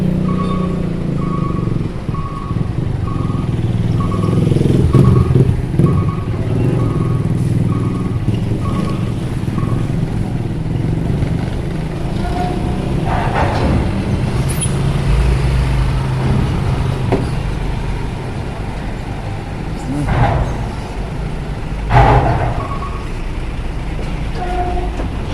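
Large trucks and heavy vehicles rumble as they load onto a ferry at Bakauheni port, a loud continuous engine drone with a repeating beeping signal early on and scattered clanks and horn-like tones.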